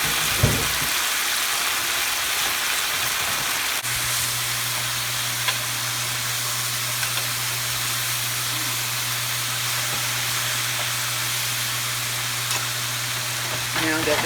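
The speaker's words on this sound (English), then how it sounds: "the peppers and onions are cooking beautifully up under there" Pot of string beans, white potatoes, onions and peppers with a quarter onion cooking on the stove, giving a steady low simmering hiss and bubble that holds evenly after a brief clatter at the start.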